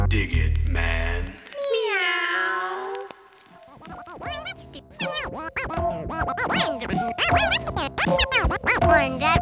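A cat meows in drawn-out, wavering cries, sliding up and down in pitch, followed by a string of quick, chattering yowls.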